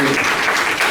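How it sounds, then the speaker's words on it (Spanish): Audience at a civil-society organisations event applauding, a brief burst of dense, continuous clapping heard close and loud. "vamos a darle un fuerte aplauso a la licenciada Ángeles López García"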